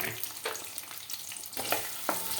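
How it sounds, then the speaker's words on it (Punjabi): A pickle mixture of amla frying in a pan over a low-to-medium gas flame sizzles steadily, with several distinct scraping strokes of a spoon stirring it at close range. "ਥੋੜੀ ਦੇਰ ਇਹਨੂੰ ਹਿਲਾਉਨੇ ਆ"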